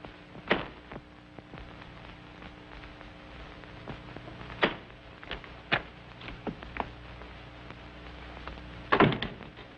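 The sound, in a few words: door with a bolt being closed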